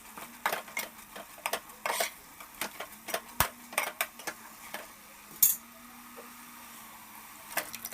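A spatula stirs spinach paste with garam masala and turmeric in a pan, giving irregular metallic clinks and taps against the pan over faint background hiss.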